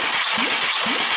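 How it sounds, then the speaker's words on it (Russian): A 2001 Volkswagen Golf 1.6 AUS engine cranks on the starter during a compression test, giving a rhythmic, repeating chug of strokes against a loud steady whir. "Замер компрессии двигателя автомобиля Volkswagen Golf 2001 года выпуска."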